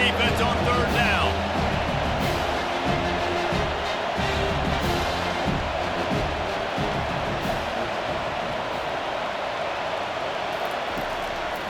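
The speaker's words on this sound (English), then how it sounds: "Decibels rising as the crowd gets behind this defense on 3rd down." Crowd noise builds on 3rd down in College Football 25 during a simulated Utah State at USC game, a broad sustained roar filling the stadium with low rumbling beneath, steady and loud throughout.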